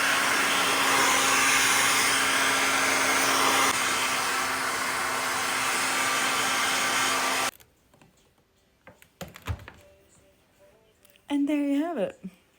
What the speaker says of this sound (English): once I'm all done blow drying my hair